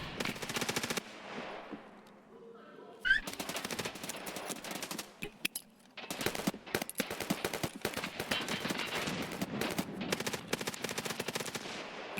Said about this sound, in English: someone is shooting from my left.